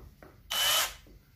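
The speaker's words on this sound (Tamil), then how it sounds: "அடுத்ததாக நம்ம ஒரு கட்டையில் ஒன்று ஏற்றி பார்ப்போம், ஸ்க்ரூ எப்படி இறங்குன்னு." A Keelat cordless electric drill drives a screw into a small wooden block in one short, high whirring burst of about a third of a second, close and loud against quiet surroundings.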